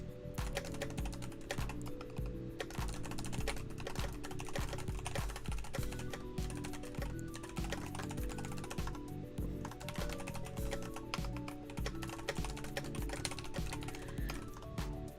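Steady typing on a computer keyboard, a continuous run of quick close key clicks with no pauses and no talking over it.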